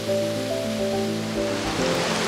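Water cascades steadily over a blackened man-made stone wall at a hidden West Yorkshire waterfall, a constant broadband rush that stays close and even, with faint tonal hum layered underneath.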